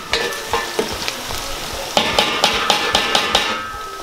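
Onions sizzling in a pan as the base for stuffed cabbage, with a steady fry under a regular series of scraping, tapping stirs from a utensil against the pan, loud and close.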